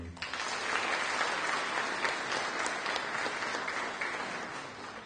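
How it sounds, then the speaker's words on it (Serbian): An audience at a folk society's annual concert breaks into sustained applause, a dense wash of clapping that swells quickly and fades slightly toward the end. "Jedan aplauz za njih."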